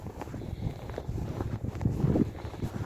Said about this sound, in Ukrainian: вітер задуває